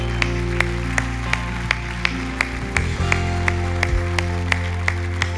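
A church congregation claps in a steady, even beat, with sharp regular claps over sustained musical tones.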